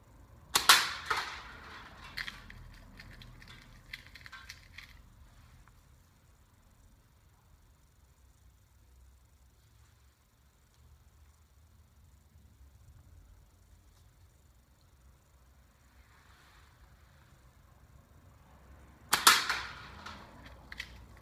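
A Queen prototype slingshot from Metro Grade Goods shooting .177 BBs, two sharp snapping releases with quick rattling impacts about eighteen seconds apart and faint quiet between them.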